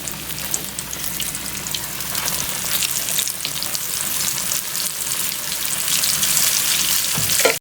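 Spanish mackerel fillets fry in hot oil, two at a time, with a steady loud crackling sizzle that holds throughout and swells slightly toward the end, with no talk.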